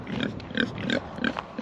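Pigs grunting on a homestead, a run of short rhythmic low grunts repeating about every third of a second, close by and moderately loud, with no talking.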